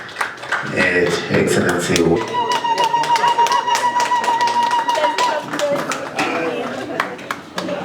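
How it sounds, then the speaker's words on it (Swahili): Audience clapping in a crowd at the launch of a county GIS lab, steady broadband applause running through most of the stretch, with a speaker's voice over it at the start and a sustained tone in the middle. "tupige makofi vizuri kwa kazi nzuri hii inaendelea"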